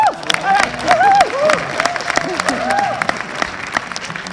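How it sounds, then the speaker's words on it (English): Congress audience applauding for its host, a dense burst of clapping with a voice or two calling out over it, strong at first and slowly thinning. "I'll take a little bit of applause."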